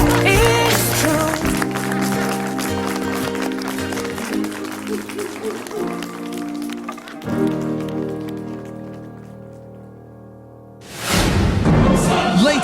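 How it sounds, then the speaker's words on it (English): Applause from the contestants at The X Factor UK bootcamp, heard as a loud, dense clatter of clapping that rises at the close, layered under music that plays throughout. "you should all congratulate yourselves with a big round of applause"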